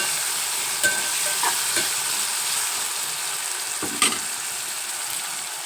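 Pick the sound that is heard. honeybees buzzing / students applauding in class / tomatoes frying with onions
tomatoes frying with onions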